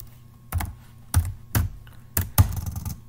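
Five short bursts of keystrokes on a computer keyboard while writing code in a plain text editor, close and crisp with quiet gaps between the bursts.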